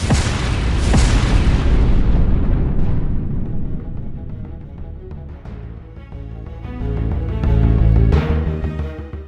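A FAB-1500 aerial bomb dropped by a Russian Su-34 detonates in a heavy, rumbling blast, a loud roaring boom that rolls on for several seconds with further deep thuds and crackling bursts.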